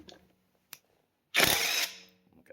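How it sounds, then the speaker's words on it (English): A mid-torque impact wrench fires a short, loud burst of about half a second on a car lug nut, with faint clicks and handling noises in the otherwise quiet moments before and after. "So let's go ahead and remove this lug nut"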